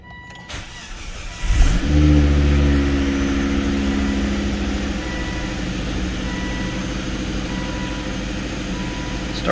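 A Volvo V70R cold start: a brief crank, then the engine catches with a loud flare and settles into a steady, strong idle recorded up close.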